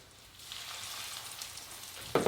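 Steady crackling sizzle of breaded chicken frying in hot oil in a pan, a dense hiss throughout with a louder burst of spattering near the end.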